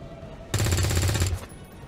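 Sustained burst of gunfire in the turn-based strategy game XCOM 2, a dense rapid rattle lasting about a second, loud and close against a quieter game background, with no talking.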